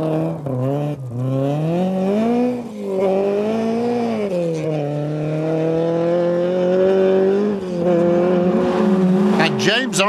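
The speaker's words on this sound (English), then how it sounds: "Loose gravel and a 90-degree left-hander is guaranteed entertainment in a rear-wheel drive car." A rear-wheel drive rally car at the 1996 Circuit of Ireland Rally corners hard on loose gravel through a 90-degree left-hander, its engine note loud and close, rising and falling continuously as the driver works the throttle.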